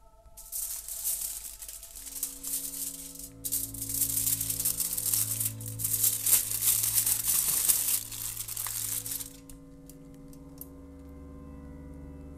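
Aluminium foil crinkles and rustles as a pepper is wrapped inside it, a dense run of crackling that swells for several seconds under a soft musical drone and then stops, leaving the quiet tones alone.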